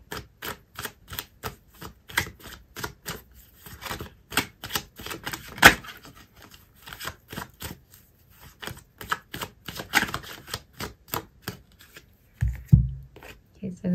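Tarot cards being shuffled and handled during a love reading, a long run of crisp, rapid clicking and riffling taps that rises into a denser flurry midway, with a low thud near the end.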